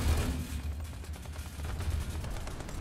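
A .50 caliber machine gun fires in a tank combat video game, a rapid, rolling burst of shots rattling at a steady pace under low rumbling battle noise.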